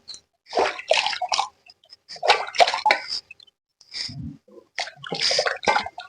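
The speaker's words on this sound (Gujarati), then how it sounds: "અને એને આપણે સારી રીતે ધોઈ લેશું એમ ઘસીને જેથી કરીને આમાં કાંકરી કે હોય તો નીકળી જાય કરીને ધોઈ લેશું" Carrots are rubbed by hand under water to wash off grit, producing close bursts of splashing and sloshing separated by short silent pauses, with no talking.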